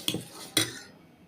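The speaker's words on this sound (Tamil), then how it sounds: "எல்லாம் மிக்ஸ் பண்ணி விட்டுக்கலாம்" A spoon scrapes and clinks twice against a bowl while stirring dosa batter, close and fairly quiet, followed by a brief pause.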